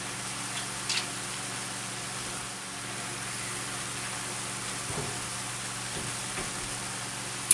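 Shrimp with onion and a tablespoon of butter frying in a pan, giving a soft, steady sizzle throughout with a few faint clicks and crackles.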